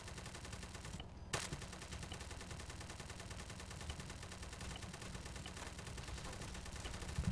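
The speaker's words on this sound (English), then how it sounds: "here's one mag of me shooting it just straight forward" An Arma 3 5.56 rifle fires a full magazine in an unbroken burst of rapid, evenly spaced shots, with one short gap near the start.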